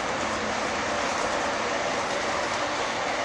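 Model railway freight train with container wagons running on a layout, a steady loud rolling rumble with faint clatter and no pauses, no speech.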